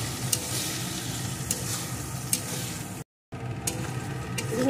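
Vegetables for chilli paneer sizzle in a pan after a splash of vinegar while being stirred, giving a continuous frying hiss with scraping strokes and a brief dropout partway through.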